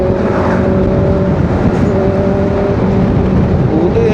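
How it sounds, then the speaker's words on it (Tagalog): Dense road traffic rolls past on a long ride, heard from an ADV 350 motorcycle as a loud, continuous roar of engines and tires with a low hum running throughout. "Dami ng sasakyan."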